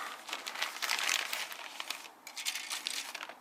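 A plastic bag crinkles and rustles up close as model kit parts for an Airfix 1/72 Messerschmitt Me 262A-1a are pulled out, in bursts of crackling with brief pauses.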